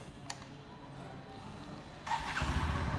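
A Bajaj Platina 110 Fi motorcycle engine starting: quiet idle-like background, a brief click, then at about two seconds the engine catches and settles into a louder, steady low running sound close by.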